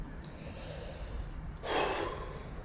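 A single deep, deliberate breath drawn in sharply through the nose and mouth, a short airy rush standing alone after a quiet stretch of faint background hiss.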